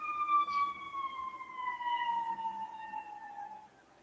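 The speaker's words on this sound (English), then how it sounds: "let that ambulance go by" An ambulance siren sweeps down in pitch as it passes, a clear wailing tone that fades into the distance.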